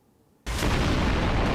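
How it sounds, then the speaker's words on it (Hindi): A sudden loud explosion in wartime news footage bursts in after a quiet moment and sustains as a dense, broadband roar through to the end, close and overwhelming with no voices. "ऐसे धमाके जो रूह कपा दे"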